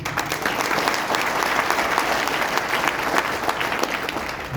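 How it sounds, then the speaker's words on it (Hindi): An audience at a speech claps steadily and loudly, a dense crowd applause sustained without a break for several seconds. "तालियां कम आई।"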